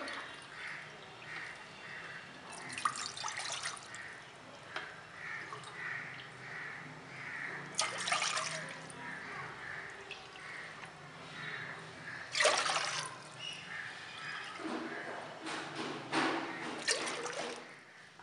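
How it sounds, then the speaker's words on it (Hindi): Cold water runs and trickles into a vessel in several separate pours as four cups are measured out for Kashmiri pink tea, each splash rising briefly over a quiet background. "सबसे पहले फ़ोर कप ठंडा पानी लेंगे"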